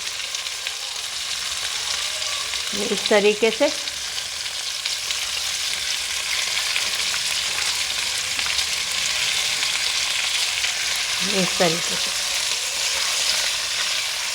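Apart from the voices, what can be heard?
fish pieces sautéing in ginger, garlic and browned onion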